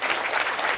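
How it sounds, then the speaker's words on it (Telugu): Audience clapping loudly for someone speaker at a talk, a short, steady burst of applause heard on its own. "గట్టిగా చప్పట్లు కొడదాం మేడంకి."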